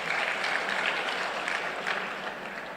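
Audience applause at the Mubes IKA Unhas alumni gathering, a steady dense wash of clapping from a large crowd, sustained and fairly even for a few seconds with no speech over it.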